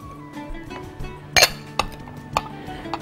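Garlic, onion and vegetables stirred together in a dish, with a few sharp clinks of a utensil against the pan over a low background hum, nearby and moderately loud.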